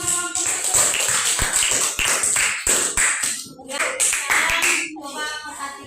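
A class applauds after a group presentation, filling the room with a dense, continuous burst of many hands clapping. Voices and cheers come through underneath the applause.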